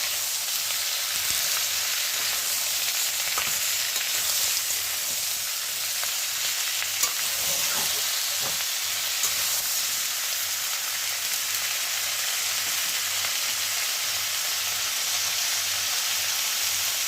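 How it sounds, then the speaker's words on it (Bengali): A spatula stirs raw tomatoes with a mustard spice mix in a hot pan, giving a steady close sizzle and hiss with faint scraping scrapes now and then, no talk over it. "এবার ভালো করে কাঁচা টমেটোটার সঙ্গে আমি মশলাটা ভালো করে মিশিয়ে নেবো খুন্তি দিয়ে"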